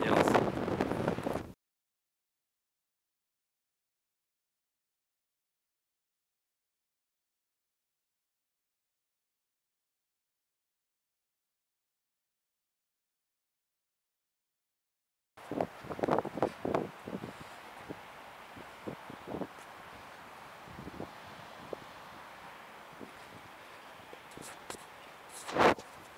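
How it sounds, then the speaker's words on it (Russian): Gusty wind buffets the microphone of a KEELEAD K80 action camera in uneven bursts after a long stretch of silence, with a faint rustle underneath. "Сейчас ветер поднялся."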